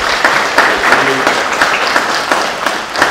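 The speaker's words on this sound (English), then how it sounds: "I think we should give them a special round of applause." A church congregation at Sunday Mass applauds the Stepping Up group, a dense steady round of clapping in a reverberant hall, close and loud, with a brief voice briefly audible beneath it.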